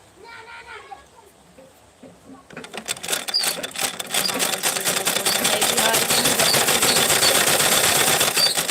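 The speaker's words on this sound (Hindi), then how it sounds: "अभी सिलाई कर रही हूँ" A sewing machine stitches fabric, starting after a brief pause and building into a loud, fast, steady mechanical rattle up close, with talking over it.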